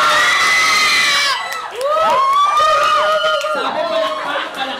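A lively crowd at a first birthday party cheers and shouts, with loud, high-pitched children's voices whooping and calling out close by, briefly dipping before surging again.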